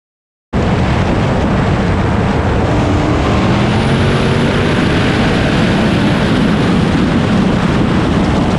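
A green, supercharged 1,000-horsepower Dodge Hellcat racing a Camaro, heard as a sudden, loud, sustained engine roar that bursts in after a brief silence and holds at full intensity with no break.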